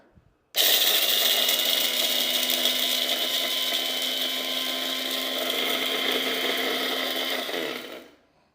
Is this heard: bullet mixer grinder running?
yes